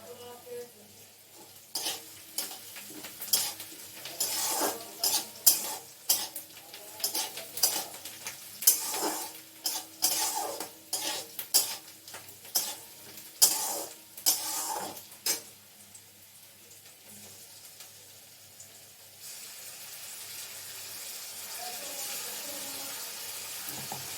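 A paste of tomato, green chilli, ginger and garlic fries in a pan for a chicken and kabuli chana curry, stirred in loud, rhythmic scraping strokes over a constant sizzle that settles into a steadier hiss.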